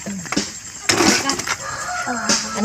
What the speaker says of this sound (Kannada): ಎಲ್ಲ ಕೋಳಿ ಹೋಯ್ತು